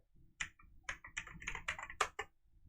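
Someone types code on a computer keyboard with a quick, irregular run of close, crisp key clicks and taps, nearly a dozen strokes in under three seconds.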